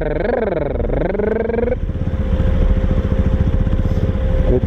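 A motorcycle engine labours steadily in first gear on a mountain road near Sela Pass, its loud, continuous drone holding close throughout. A voice speaks briefly over the engine near the start.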